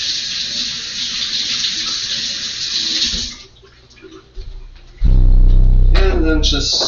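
Tap water runs over about 13 ounces of orange, yellow and purple carrots being washed, a steady broad stream for several seconds, then a pause and a louder, closer gush of running water.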